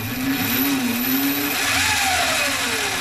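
A brushless motor fitted to a Razor scooter as a makeshift upgrade whines steadily, its pitch sliding up and down over a constant mechanical hum, close and fairly loud with no talking.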